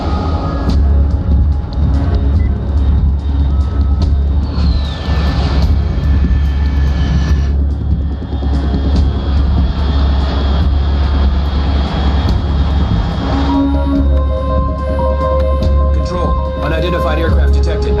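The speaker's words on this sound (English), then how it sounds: "Unidentified aircraft detected." Loud, steady aircraft engine drone in the Metal Gear Solid 3: Snake Eater video game, a continuous roar with shifting whines and hums, and a voice speaking over it.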